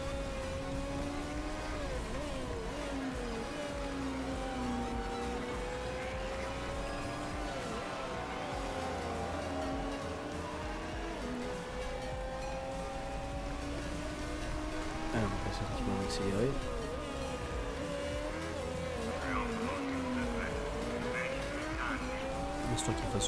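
Race cars in the MotorSport Manager PC game leave the pits and lap the circuit, a steady layered engine drone with pitch sweeps and occasional tire squeal, continuous throughout under faint background talk.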